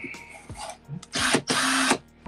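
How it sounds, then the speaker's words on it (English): A power drill, used while making a coin ring, whirs in short bursts, two louder runs after brief starts, close and alone. "you will hear some sound of the drill"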